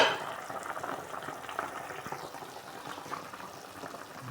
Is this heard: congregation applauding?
no